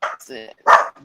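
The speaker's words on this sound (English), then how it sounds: "sorry, that's my dog" A dog gives two sharp barks close by, with a short whining yelp between them, all within about a second.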